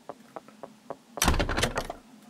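A door opens in the video game Pocket Mirror: a few soft footsteps, then a loud, rattling thunk as it swings through, fading after about a second.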